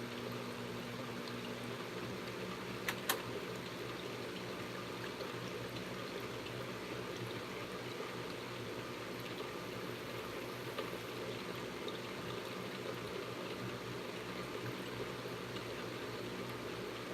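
Hot water runs steadily into a washing machine during a dye job, a faint, even stream of flowing water with a couple of brief clicks early on.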